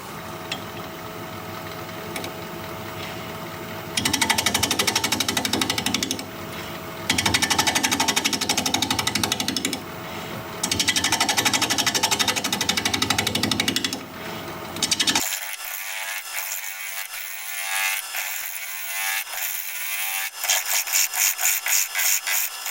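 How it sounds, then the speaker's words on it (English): Wood lathe spinning at 730 RPM as a 5/8 inch bowl gouge cuts sea grape wood, a loud rough scraping roar in bursts with brief pauses, ending in a thinner, brighter hiss. "We're going to be turning at 730 RPM with a 5/8 inch bowl gouge"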